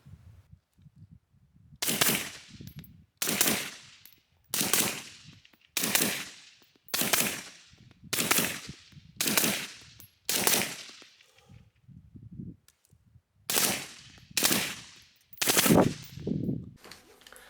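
An HK 416 rifle fires about a dozen sharp, loud single shots in a steady rhythm roughly a second apart, each with a short ringing tail, with a brief pause partway through.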